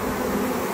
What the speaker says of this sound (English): there's a ton of bees on the lid there